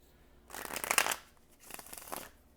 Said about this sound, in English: I'm going to do one more shuffle, actually.